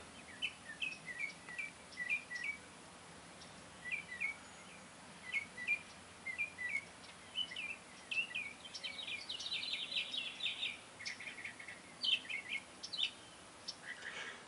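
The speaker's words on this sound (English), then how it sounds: "I apologize if you don't like bird chirping in the background" Small birds chirp and tweet repeatedly in the background outdoors, short bright calls scattered throughout with a denser flurry midway, moderately faint against a quiet ambient hum.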